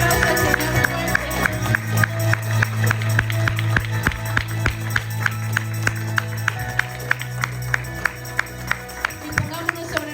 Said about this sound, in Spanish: Así que damos este aplauso al Señor fuerte.